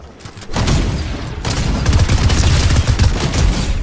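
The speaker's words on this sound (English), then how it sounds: "Oh, another guy shooting." Rapid bursts of gunfire from the video game Fortnite, a dense, loud volley of shots that runs on steadily, with rattling automatic fire throughout.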